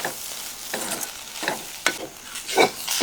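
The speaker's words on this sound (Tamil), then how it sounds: "இப்போ நல்லா எல்லாத்தையும் மிக்ஸ் பண்ணிக்கோங்க" Spices are stirred and mixed for a fish cutlet, with a spoon scraping a pan in several short, soft strokes over a faint background hiss.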